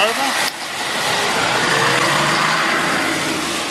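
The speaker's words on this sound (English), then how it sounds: "Just crossing the road now, quite a bit of traffic here" Steady road traffic rolls past close by at a busy street crossing outside a hardware store, a loud continuous wash of car and truck engines and tyre noise with no voices.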